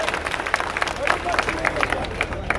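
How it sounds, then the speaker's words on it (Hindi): Crowd at a public meeting claps in a scattered, uneven patter, moderately loud with voices murmuring underneath. "एक बार जोरदार ताली बजाइए साबिर साहब के लिए"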